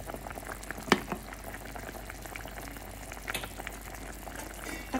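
Chicken with carrots simmering in coconut milk in a pot for ginataang manok, a soft continuous bubbling with a sharp clink of a utensil or lid near the start and scattered small pops.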